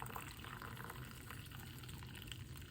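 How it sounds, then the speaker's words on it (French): Boiling water pours steadily into a teapot for Moroccan mint tea, a faint, continuous liquid trickle with a soft splashy texture and no voices. "Je vais mettre de l'eau tout d'abord. Bien sûr, toujours bouillante hein, l'eau."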